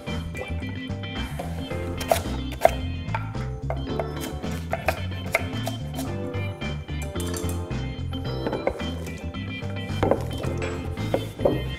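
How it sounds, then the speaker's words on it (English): A knife chops sweet potatoes into workable pieces on a board, sounding as a series of quick, sharp taps spread through the clip under steady background music. "Just gonna chop it."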